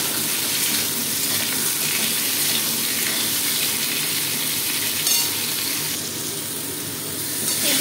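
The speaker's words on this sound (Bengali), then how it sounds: "এদিকে আলুটা ভাজা হচ্ছে।" Potatoes frying in hot oil give off a loud, continuous sizzle close by, with a bright crackling hiss that shifts slightly near the end.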